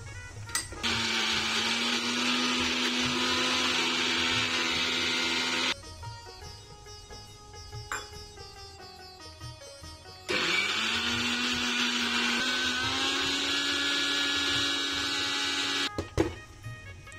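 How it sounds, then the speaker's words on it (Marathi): Mixer grinder grinding fish curry masala with tamarind pulp to a fine paste: a loud steady motor whine runs for several seconds, stops for a pause filled with small knocks and handling, then starts again and runs to near the end. "फिश करी मसाला आणि चिंचेचा कोळ मसाला आहे हा आपण बारीक वाटून घेऊया."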